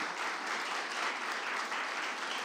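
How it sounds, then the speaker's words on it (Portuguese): A church congregation claps during a Sunday worship service, a dense, steady wash of applause from many people, fairly distant and continuous. "Vamos dar um fortíssimo aplauso ao Senhor,"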